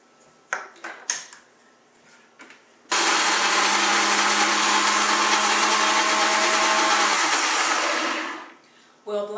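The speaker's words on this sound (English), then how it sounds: "We'll blend that on high." Blender running on high speed, blending tofu, ghee, maple syrup and vanilla, a loud continuous whirring motor that starts abruptly and runs for about six seconds before winding down; a few light clinks come before it.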